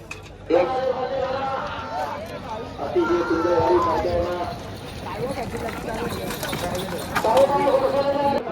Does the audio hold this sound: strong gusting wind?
no